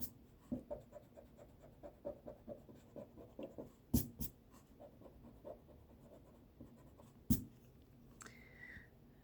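Pencil eraser rubbing over a comic drawing on paper, a quiet run of short scratchy strokes with a couple of sharper taps and brushes, close up and without speech.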